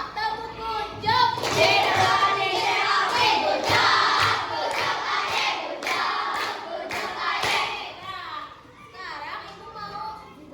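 A classroom of schoolchildren claps together in a rhythmic pattern while their voices chant and shout loudly over the beats.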